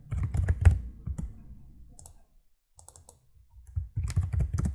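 Typing on a computer keyboard while entering text in Canva: rapid close key clicks in two bursts with a quiet gap between them.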